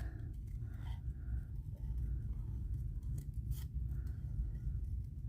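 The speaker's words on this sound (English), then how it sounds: "I'm just about done fussy cutting these." Scissors fussy cutting around shapes in paper for a handmade accordion fold card, with soft close snips and paper rustle over a steady low background hum.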